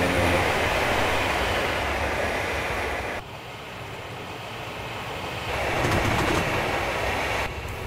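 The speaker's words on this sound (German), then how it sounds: "So sieht das Ganze von außen aus, wenn der ICE dran vorbeifährt." An ICE 2 high-speed train in Train Simulator 2015 rushes past outside with a steady, broad roar and rumble that dips briefly and swells again, loud and continuous with no talking.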